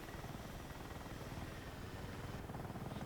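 A helicopter in the video game Battlefield 6 drones steadily with a dense, continuous rotor roar, loud and close throughout with no pauses.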